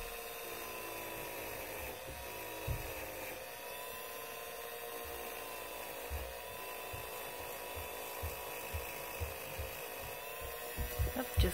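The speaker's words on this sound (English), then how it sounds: "at the same time he's sanding it" A sanding tool whines steadily and faintly as it works over the painted leather of a Louis Vuitton Alma bag, with small soft taps and bumps scattered beneath the continuous tone.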